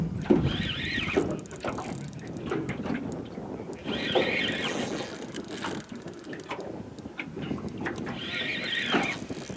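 A fishing reel's drag screams in repeated high, shrill bursts as a hooked snapper runs at Port Welshpool, each whine rising and fading over a steady background of water and boat noise.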